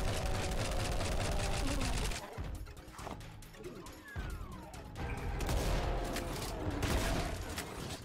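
Chaingunner enemies firing in a modded Doom shooter, loud sustained bursts of rapid gunfire that briefly drop out mid-clip before resuming, with mechanical game noise underneath.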